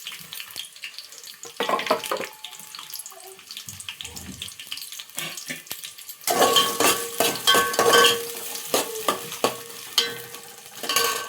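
Eggplant and potato pieces fry in a generous amount of oil, giving a steady sizzle that grows louder and denser partway through, with clattering of utensils over it and no one talking.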